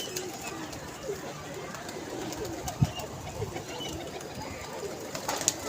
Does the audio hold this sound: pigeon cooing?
yes